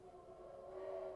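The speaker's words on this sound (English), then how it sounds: "That's my train clock going off." A train-themed clock sounds the hour with a steady sustained tone that swells slightly louder toward the end, heard alone with no talking.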